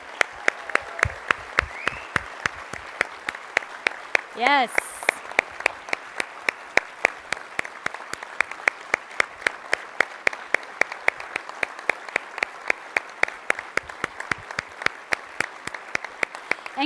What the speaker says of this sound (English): So let's give our 2018 Hall of Fame class one more round of applause